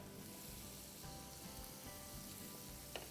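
Prawns fry in a pan with a steady, faint sizzle that holds the whole time, broken by a small clink near the end; no one speaks.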